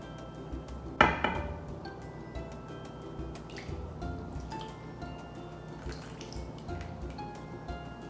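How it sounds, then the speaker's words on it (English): Smooth lemon filling is poured onto a cooled lemon bar crust, starting with a loud clatter of a dish followed by soft wet splashing and dripping sounds, with no talk. "Now I'm going to pour my finished smooth lemon filling on top of my cool down crust."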